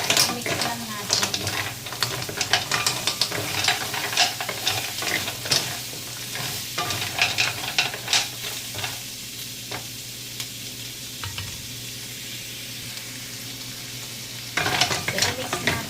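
Kohol snail stir-fry is stirred and tossed in a sizzling pan, with repeated scraping and clattering of a utensil against metal. The sizzle continues close by, and the stirring pauses near the end.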